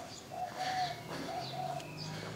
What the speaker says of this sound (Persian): صدا جغد میاد.